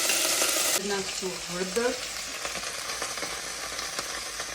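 Peas and potatoes fry in a pan for a Gujarati-style dish, giving a steady close sizzle and crackle that softens after the first second, with a short stretch of talk over it.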